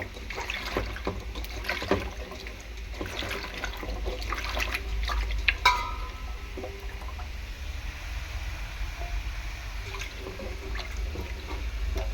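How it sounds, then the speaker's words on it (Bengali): Water runs and splashes as vegetable stalks are rinsed in a kitchen, with a steady wash of flow and a few sharper splashes and clinks near the middle. No one speaks. "ডাঁটাটা একবার আমি ধুয়েছি, আরও একবার ভালো করে জল দিয়ে ধুয়ে নিচ্ছি।"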